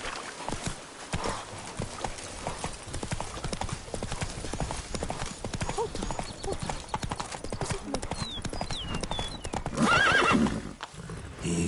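A horse gallops with rapid rhythmic hoofbeats throughout, then neighs loudly near the end, in The Witcher 3: Wild Hunt on PS5; a rider briefly speaks over the hooves.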